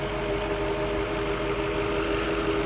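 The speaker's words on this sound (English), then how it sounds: "you can hear the engine is running smooth" A 2000s Audi A6 4.2 V8 engine idles steadily with a smooth, constant hum and no other sounds, close by and unchanging throughout.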